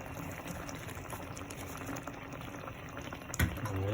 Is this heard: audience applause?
no